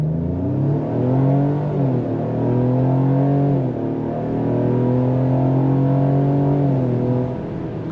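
A 2025 Ford Explorer SUV engine at full throttle, a loud close rising drone that climbs through the gears with a short shift dip before pulling strongly again.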